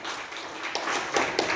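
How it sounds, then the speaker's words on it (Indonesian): Audience clapping at a talk on emotional and spiritual intelligence, a brief burst of many hands with a few sharper claps standing out near the end. "tepuk tangan dulu buat kita sama-sama"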